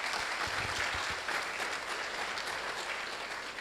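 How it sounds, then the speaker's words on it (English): An audience at a university students' research club launch applauds, with sustained, even clapping from the crowd over a few seconds and no voices on top. "Let's clap for her."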